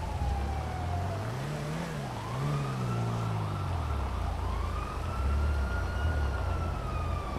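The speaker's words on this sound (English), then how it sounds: "I still hear that helo, I still hear the sirens." Police sirens in GTA 5 wail and sweep in pitch over a constant rumbling engine drone, loud and continuous with no talking.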